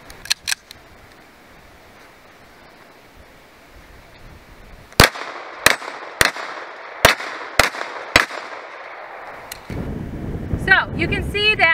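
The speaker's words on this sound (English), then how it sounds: "And this time I'll do it with live fire." Live-fire gunshots from a shooter moving while firing, starting with a few sharp reports, then a steady series of six loud cracks about a second apart, ending in wind noise and handling rustle.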